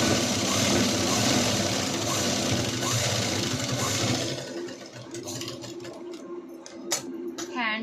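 Sewing machine stitching blouse fabric in a home tailoring setting, a dense steady mechanical whir for about four seconds that drops off into quieter clicks and handling sounds.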